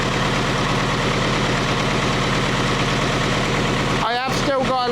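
A Leyland 154 tractor's diesel engine idles steadily at about 1200 RPM under restoration, a loud, even rumble filling the clip before a voice speaks over it near the end.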